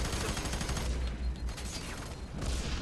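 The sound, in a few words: gunfire in video game F.E.A.R. 3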